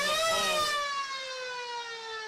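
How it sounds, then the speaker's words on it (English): At a local football match between East Ringwood and North Ringwood, the half-time siren sounds as one long, loud wail that slides steadily downward in pitch and fades out. "As the siren sounds to announce half-time out here"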